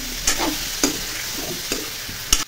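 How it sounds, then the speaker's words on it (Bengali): Turmeric, salt, chilli powder, cumin and coriander sizzle in a pan in a home kitchen, a low steady hiss punctuated by four sharp spatula knocks against the pan. "জিরে ধনে দিয়ে একটু কষিয়ে নিচ্ছি।"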